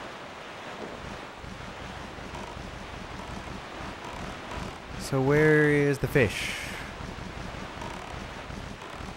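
Ocean waves and wind roar continuously in The Legend of Zelda: The Wind Waker while out on open water, a steady rushing wash with a brief tonal game sound midway and someone speaking briefly over it.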